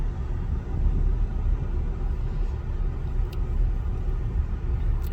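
A car drives into downtown Matewan, West Virginia, with a steady low road rumble and engine drone heard from inside the vehicle throughout, loud and continuous with no talk.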